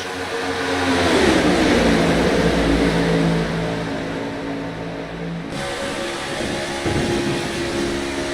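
A race car engine roars loudly past on the Talladega oval during a racing game, with broad droning engine noise swelling, holding and then shifting in pitch.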